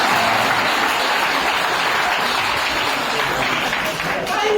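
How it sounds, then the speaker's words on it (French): Loud, dense audience applause at an honorary mothers' event held by an NGO at Bouaké town hall, continuous and close throughout. "Applaudissez pour moi."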